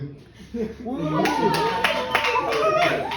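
A crowd bursts into clapping and cheering, with children's voices shouting and applause building and holding steady.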